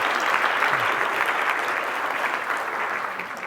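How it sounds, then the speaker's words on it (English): A large audience of around 400 people at a free farmers market event claps in a steady, dense round of applause that runs the whole time at an even, fairly loud level. "give a round of applause for Meredith and the team"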